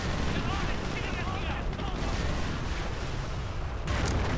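Calliope rocket artillery in Company of Heroes, a steady roar of rocket fire and distant explosions running without pause, with a sharper burst near the end.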